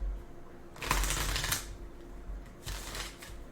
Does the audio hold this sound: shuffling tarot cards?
yes